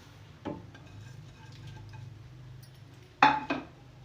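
Roasted white sesame seeds stirred into hot jaggery syrup for homemade til rewari: quiet scraping of a spoon in a pot, with a couple of sharper metallic clinks standing out against near silence.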